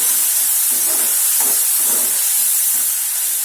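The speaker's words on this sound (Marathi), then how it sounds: "याला छान तेलावर परतून घेऊया" Spice paste and mixed vegetables frying in hot oil in a pan, heard as a loud, constant, close sizzling hiss with faint crackles and no voices.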